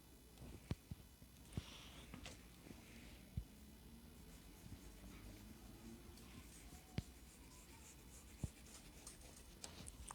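A marking tool scratches and scrapes across a leather messenger-bag pattern in short, quiet strokes, near and close-up, with occasional small taps between them.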